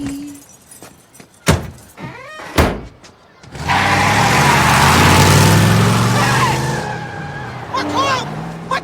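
A car speeds off with tyres skidding and a loud, sustained engine roar lasting several seconds, after a couple of sharp door-like thumps; faint voices can be heard nearby.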